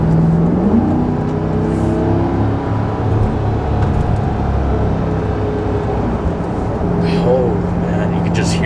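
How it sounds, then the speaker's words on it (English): A 2021 Corvette Stingray's rear-mounted V8 rumbling and revving under light throttle, a steady loud engine drone that swells slightly, with a person talking over it. "you can just hear that V8 in the rear. Sounds beautiful."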